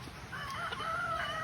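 Chickens cluck and a rooster crows on a rural plot in the Philippines, a drawn-out crow rising over scattered hen clucks, fairly close, with faint background noise and no talk.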